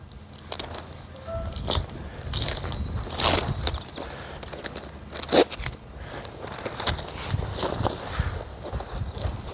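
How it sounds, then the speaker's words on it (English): Tape is peeled off a roll of weed barrier ground cover, making irregular crackling and tearing bursts at close range with soft handling rustles between them. "So take the tape off."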